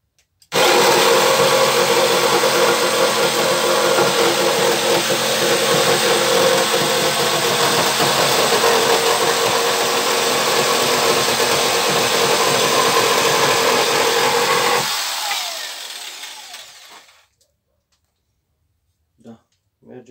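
A Heinner 400W pendulum jigsaw motor runs at full speed, a loud steady high-pitched whine held for about fifteen seconds before winding down to silence, followed by a few faint clicks.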